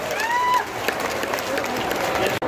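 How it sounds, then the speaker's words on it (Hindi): Crowd applause welcoming a Union minister at a religious yajna ceremony in Buxar, a dense outdoor clapping wash with some cheering and faint voices, cut by a brief dropout near the end. "जोरदार तालियों से स्वागत कीजिए उनका"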